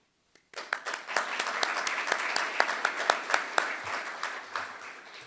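Applause from an audience at a ribbon cutting for an athletic center, honoring donors. The clapping starts abruptly, rises to a steady, fairly loud ovation with sharp individual claps, and then tapers off near the end.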